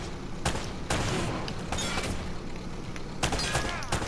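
Gunfire in a shootout from the video game Uncharted: Drake's Fortune, with sharp shot bursts clustered around the start, the middle and the end over continuous loud game noise.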